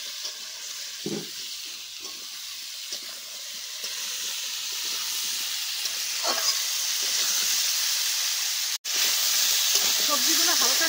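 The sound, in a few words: vegetables frying in a pan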